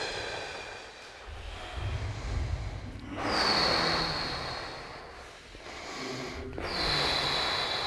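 Two long, deep breaths during a stretching exercise, each a broad, breathy exhale of several seconds, close to the microphone with a short pause between them.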